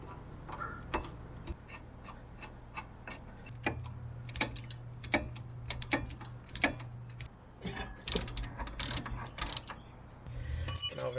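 A hand ratchet clicks in quick, irregular runs while fastening brake caliper bolts on a Mercedes Sprinter van. The clicks are faint and close, over a low hum, with no talk.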